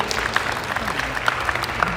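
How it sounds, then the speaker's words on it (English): Applause from an audience at a meet-and-greet held in a palace hall, a steady, fairly close wash of clapping with no talking over it. "Round of applause for this video."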